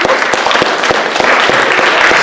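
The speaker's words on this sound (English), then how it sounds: "A round of applause for them as well" Audience at a high school mock presidential primary debate applauds, a dense sustained burst of clapping with sharp individual claps standing out, loud and close.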